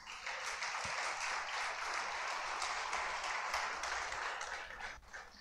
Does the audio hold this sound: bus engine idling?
no